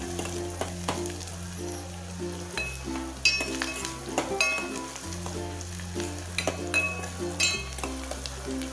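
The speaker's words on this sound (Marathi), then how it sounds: "कांदा भाजून द्यायला लागलाय" Masoor dal and onion roasting in a pan, a steady close sizzle with scraping stirs and occasional metallic clinks of a spoon against the pan, with a low hum running underneath.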